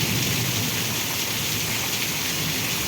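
Heavy rain pours down steadily during a thunderstorm with strong wind and lightning in Vejalka village, a dense, continuous hiss close by with no break.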